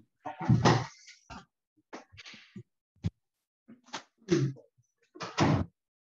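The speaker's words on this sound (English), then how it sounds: "let me close the door" A door is shut indoors during a city council study session, with a few separate knocks, thumps and clatters spread out amid otherwise quiet moments.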